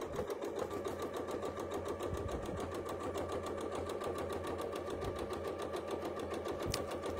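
A sewing machine runs steadily through free-motion quilting, stitching in the ditch along a boundary seam, its rapid even needle strokes continuing close and alone for several seconds.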